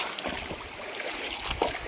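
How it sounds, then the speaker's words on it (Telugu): Feet wade through the shallow stream below Penchalakona waterfall, soft splashes and sloshing steps rising over a constant watery rush, with one sharper splash near the end. "మోస్ట్లీ నేను వాటర్లోనే నడిచాను."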